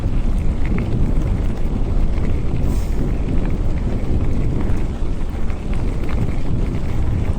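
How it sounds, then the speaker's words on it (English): Strong headwind roars over the microphone while biking, a loud, constant buffeting rumble that fills the whole stretch with no other clear sounds. "I'm riding right into that headwind again"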